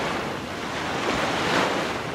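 Ocean surf and gusting wind wash onto a South Pacific beach in the Jules Verne adventure game Return to Mysterious Island, a loud, continuous roar that swells slightly toward the end, with no speech.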